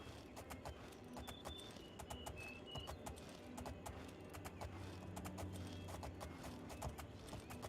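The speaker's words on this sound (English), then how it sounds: "I think this horse just sucks is the main problem." Horse hooves clip-clopping steadily in the Elder Scrolls Oblivion video game, a continuous rhythmic trot heard alone and fairly quiet, with faint bird calls in the background.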